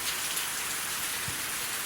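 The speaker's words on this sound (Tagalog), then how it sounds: "Kasugang ulan dire." Steady rain pours down in a dense, even hiss of drops on surfaces, soft and continuous with no voices.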